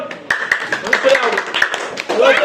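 Students in a classroom give a short burst of scattered hand claps while a voice keeps talking over them.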